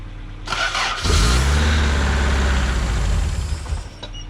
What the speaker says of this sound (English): we kind of got the car started